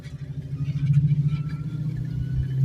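A manual transmission car's engine hums and rumbles low and steady as it pulls away and gathers speed, a near, continuous drone building slightly in loudness.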